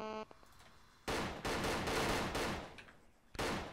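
Sniper rifle fire rings out in the video game ARMA 3: loud, sustained bursts of cracking gunfire with brief gaps and a final sharp burst.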